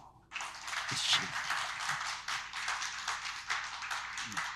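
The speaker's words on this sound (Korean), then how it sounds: "박수" Audience clapping in a church general-assembly hall as a candidate for president of the 116th general assembly comes forward, a steady patter of many hands starting abruptly and continuing evenly, moderately loud, with no talk over it.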